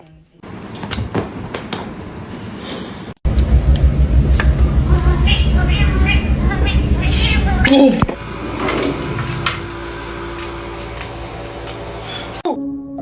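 A cat meows several times among household clatter and a sliding door, with people talking nearby.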